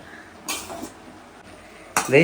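Jackfruit being stirred in a cooking pot, with a couple of sharp metallic scrapes and clatters of spoon against the pot and quieter kitchen noise between.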